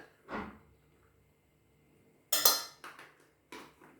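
Whole cloves and spices dropped into a pot for mulled wine, several separate clattering bursts against the metal, near and crisp, with quiet pauses between the drops.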